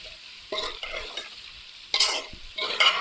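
Chopped onions fry in a pan for bhindi gosht, a close crackling sizzle broken by several bursts of stirring and scraping.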